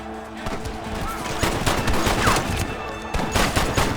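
Dense gunfire from a Red Dead Redemption shootout, with rapid overlapping shots and bursts cracking close and continuous throughout, forming a heavy fusillade over a steady battle din.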